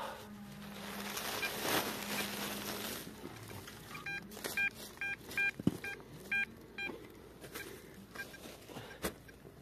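A series of short electronic beeps from a metal detector signal, repeating in a quick, regular pattern, fairly faint against quiet outdoor forest background, with no talking.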